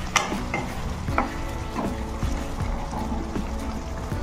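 Crab and potato pieces are stirred with masala in a pan, giving scraping, clattering strokes of a spoon at an uneven rhythm over a faint sizzle.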